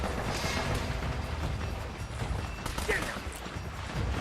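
Gunfire and explosions from the Uncharted video game fill the whole stretch, a dense continuous barrage of shots and booms with no clear gaps.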